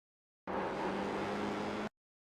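Formula iR-04 open-wheel race car engine under throttle on the Long Beach street circuit in iRacing, a dense, steady roar that starts abruptly, holds at even loudness for about a second and a half, then stops cleanly.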